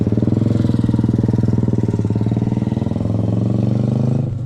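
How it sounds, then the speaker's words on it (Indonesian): A motorcycle with a loud open (brong) exhaust drones steadily nearby as it passes, rapid pulsing throb continuing for several seconds before easing slightly at the end. "karena ada motor lewat, suaranya knalpotnya brong"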